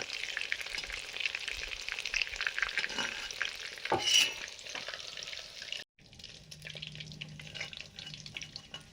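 Chital fish muitha dumplings frying in mustard oil give a steady, fairly close sizzle with stirring and utensil scrapes, then a brief pause before quieter frying resumes.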